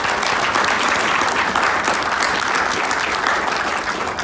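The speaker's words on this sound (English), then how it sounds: "Can we give them a round of applause?" An audience at a White House screening event applauds, dense continuous clapping at steady volume with no voices over it.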